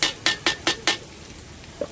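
Mustard, poppy seed and green chili paste being sautéed in a pot, heard as four quick evenly spaced scraping strokes of a spoon against the metal, then a pause and one softer scrape, with a faint sizzle underneath.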